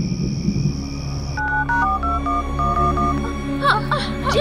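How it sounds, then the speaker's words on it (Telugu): A telephone keypad dials a quick run of DTMF beeps after a held tone, then a ringing tone starts, with faint background murmur behind. "ఫోన్ అదే డయల్ అవుతుంది,"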